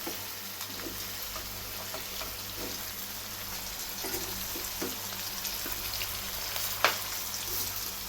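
Spiced fish pieces fry in oil with a soft, steady sizzle and faint crackle, plus a brief clink near the end, at a moderate distance with no talking.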